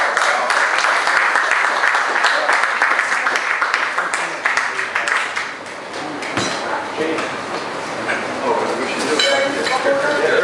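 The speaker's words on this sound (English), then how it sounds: "Round of applause, please." An audience at a talk breaks into loud, sustained applause as a presenter is called up, with dense clapping continuing throughout alongside some voices in the room.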